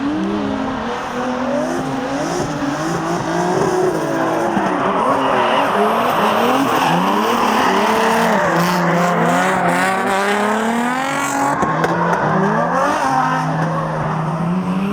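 A drift car slides through a training session, its tires squealing in long, wavering, pitch-bending shrieks over a loud roaring engine, continuous and close throughout.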